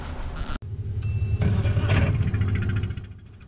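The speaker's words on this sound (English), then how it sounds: "The engine. The engine started." A boat engine runs steadily just after starting, a loud low rumble near at hand with a short break early on and no talk over it.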